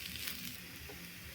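Fried potatoes are stirred and sautéed in a hot pan, giving a steady dense sizzle with soft scraping, close and continuous for a brief moment with no talk.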